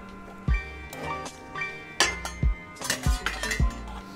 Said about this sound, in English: Pop our pasta in so we can mix that right through the sauce.